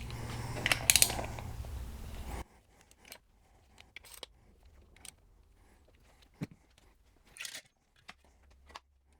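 Four 8mm valve cover bolts being loosened and removed on a 2008 Pontiac Grand Prix GXP: a loud burst of ratcheting at the start, then sparse, faint clicks and metallic taps spread over the rest.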